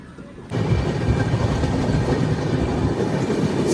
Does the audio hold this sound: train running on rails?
yes